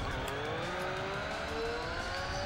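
Storm V12 race car engine in a video game at Mazda Raceway, a loud continuous drone with pitch climbing steadily as the car accelerates, alone without talk.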